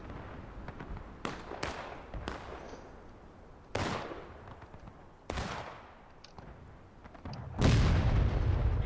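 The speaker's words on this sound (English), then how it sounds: "Here comes the pistols of the Cav. Rapid fire." Cavalry pistols fire in a rapid, scattered string of sharp cracks in a Civil War video game battle, with distinct shots spaced irregularly and a heavier blast near the end.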